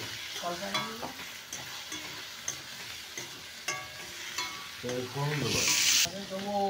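Beetroot fries in a pan for a rui fish curry, with a soft continuous sizzle under repeated scraping stirs of a spatula, close and fairly quiet, with no talk.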